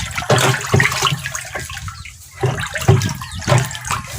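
Stirring a homemade calcium nitrate organic foliar fertilizer mixture with potassium in a container, sloshing liquid sounds in irregular bursts close by, with a brief quieter pause midway.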